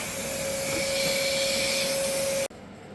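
Vacuum cleaner with a big hose running in a workshop during a resin and wood table build, a loud steady whooshing roar with a whine that cuts off abruptly near the end, leaving a quieter hum.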